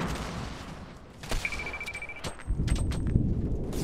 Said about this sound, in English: I think those are my nades.